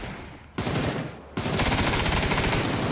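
Rapid automatic MP5 submachine gun fire in PUBG, loud sustained bursts: a short burst, a brief pause, then a longer continuous stream of shots.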